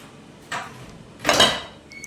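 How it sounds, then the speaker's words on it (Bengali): Two bright clattering bursts of dishes being covered and a plate brought over in a home kitchen, a short clink first and then a louder, longer rattle, close and clear with no talking. "তো আমি আবারও সব কিছু ঢেকে রাখলাম আর এই যে দেখো আমি প্লেট নিয়ে আসলাম"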